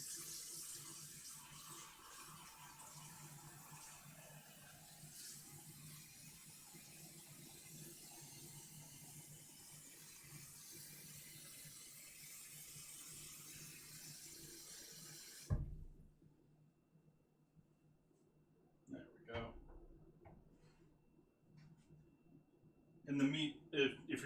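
Tap water runs steadily into a pot of brisket at a kitchen sink for about fifteen seconds, then cuts off, followed by quieter clunks and handling noises.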